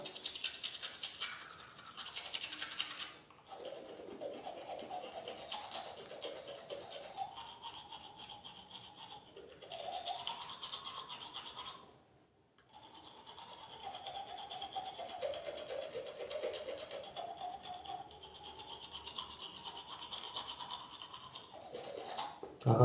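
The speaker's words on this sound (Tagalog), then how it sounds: "pwede na kayong mag-toothbrush" Teeth being brushed with a toothbrush close up, a steady run of quiet rhythmic scrubbing strokes with a brief pause partway through and no talking.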